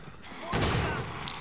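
A sudden burst of pistol fire in Resident Evil 6 erupts after a quiet moment, dense and noisy rapid shots.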